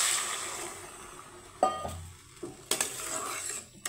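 Water poured into a pan of fried rajma (kidney bean) seeds, a sharp burst of sizzling followed by bubbling, close and quiet, with a couple of utensil clinks and no speech.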